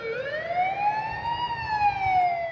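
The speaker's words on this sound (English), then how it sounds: "When the siren wails, firefighters answer." A fire service emergency siren wails in a loud, rising and falling tone close by, sweeping smoothly over a low engine rumble.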